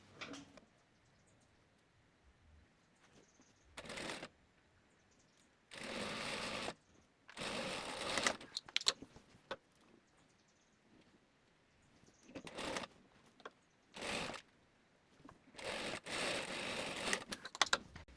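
A sewing machine stitches the side seams of a dress in several separate runs, each a fast, even whirring burst lasting a second or two, with short quiet pauses between them.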